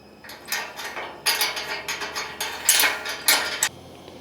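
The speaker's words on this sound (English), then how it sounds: "I gotta tighten these down, of course." Crush nuts being tightened on a running board mounting bracket of a Rivian R1S/R1T electric vehicle, producing a series of close, quick metallic ratcheting clicks in short bursts with brief pauses between.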